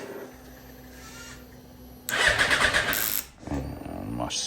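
Yamaha R1 motorcycle on a flat battery trying to start: a quiet stretch, then about a second of loud strained cranking that cuts off, followed by a weaker second attempt, close up and with no talking.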